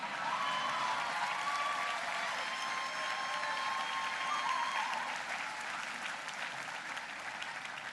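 Steady applause from an audience at a 2012 political rally in Wisconsin, a dense crowd clapping evenly and fairly distant for about eight seconds, with no voices over it.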